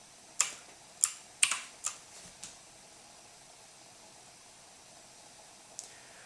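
Keystrokes on a VictSing i-900 mechanical QWERTY keyboard: five or six sharp clicks in quick succession, then a pause and one last isolated tap, fairly close over a faint steady hiss.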